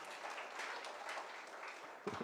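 A church congregation applauds, a short burst of scattered clapping that sounds fairly distant and low, ending with a brief louder sound.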